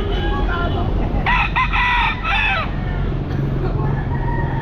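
A sweater gamefowl rooster, five to six months old, crows at a busy Grotto pet market; one clear cock-a-doodle-doo rises over steady crowd din, with other birds calling faintly around it.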